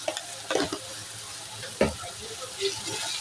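Chili chicken stir-fries in a pan with a soft, fairly quiet sizzle, punctuated by a few quick spatula scrapes and knocks against the pan.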